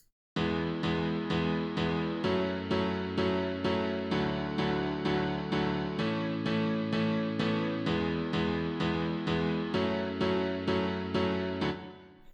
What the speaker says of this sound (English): So this is just some simple chords layered on a piano.